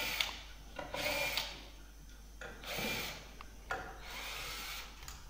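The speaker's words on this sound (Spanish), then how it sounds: "Ahora saco todos los tornillos ya," Screws being removed with what sounds like a power screwdriver, in several rising whirring bursts with rubbing and clicking between them, fairly close with a steady low hum underneath and no speech.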